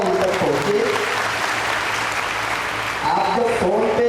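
Loud audience applause fills a hall during a Rajput community swearing-in and honors ceremony in Udaipur, steady clapping with a voice briefly speaking over it near the end.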